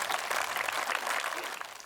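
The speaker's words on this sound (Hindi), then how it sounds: "एक बार जोरदार तालियां बजाइए।" Applause from an audience at a Hindi comic poetry gathering (hasya kavi sammelan): a steady, dense wash of clapping that holds at an even level throughout, with no voice standing out.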